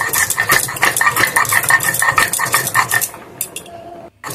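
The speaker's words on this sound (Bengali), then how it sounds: "গোলমরিচটা দিয়ে ভালো করে শিলে বেটে মশলাটা রেডি করে" Black pepper is crushed into a spice paste on a stone grinding slab with a hand stone, making rapid, rhythmic scraping and knocking strokes close up. The strokes thin out near the end, and no one speaks.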